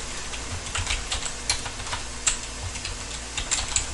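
Steady tapping on a computer keyboard, quick irregular key clicks running continuously with no talking.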